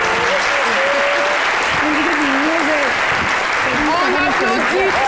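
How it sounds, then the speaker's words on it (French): A studio audience applauds loudly at a televised midday variety show's special tribute, with steady clapping throughout the clip and voices calling out over it. "On applaudit très fort Georges Abraham."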